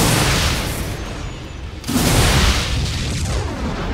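Marauder attacks in StarCraft II set off a dense, loud barrage of game explosions, with a rumbling wash that swells sharply about halfway through and continues as crackling booms.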